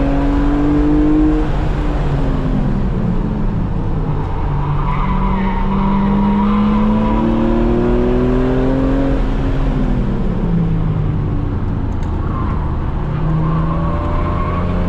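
A BMW E46 M3 with SMG gearbox driven hard on a race track, loud close engine note rising and falling through gear changes, with tires squealing through corners.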